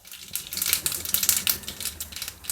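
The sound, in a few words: mustard seeds spluttering in hot oil for tempering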